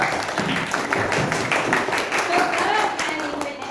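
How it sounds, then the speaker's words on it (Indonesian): Students in a classroom clap their hands together, a dense, steady patter of applause filling the whole span, with children's voices mixed in underneath. "Tepuk tangan dulu"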